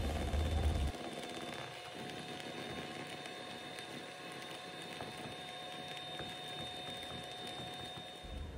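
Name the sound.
electric mixer mixing cake batter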